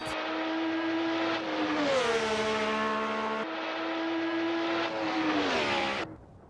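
A 1950s-era Formula One race car screams past with a high, sustained engine whine. It shifts pitch as gears change before cutting off abruptly near the end.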